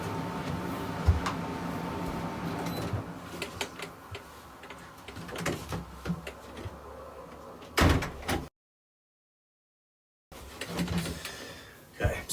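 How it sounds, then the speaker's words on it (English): An indoor door is pushed shut with a single sharp thud among small knocks and handling noises, with voices nearby before the sound briefly cuts to silence. "I'm just going to shut the door a second"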